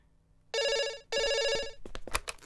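An electronic telephone ringer sounds in two loud, close rings of about half a second each, separated by a brief pause, followed by softer clattering handling noises.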